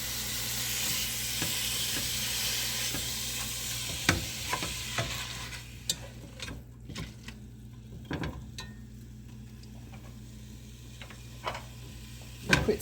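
Ground hamburger meat sizzles and crackles steadily while browning in a pan, with scattered scraping taps and pops from breaking it up, close and moderately loud throughout with no talk.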